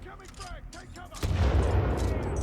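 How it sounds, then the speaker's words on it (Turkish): A grenade is thrown and bursts in Titanfall 2. Someone speaks briefly, then a loud, heavy explosion booms and rumbles on for over a second. "ben şöyle size bir bomba atayım hediye"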